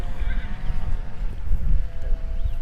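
Horses walk away from a river after bathing, hooves and movement rumbling low and steady against soft wind noise, with faint whinny-like tones in the background.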